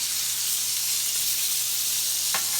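Chicken fried steak sizzling on a flat top griddle, a loud, steady frying hiss filling the whole clip, with a brief scrape or clink near the end.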